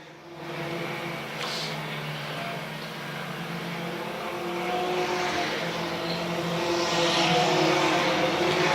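Race cars circling a track at the Fall Spectacular 400, a steady engine drone that builds gradually louder as the cars pass, heard from a distance without talk.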